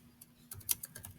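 A computer mouse clicks several times during online meeting setup, with sharp, quiet, irregular clicks spread across the moment and no voice over them.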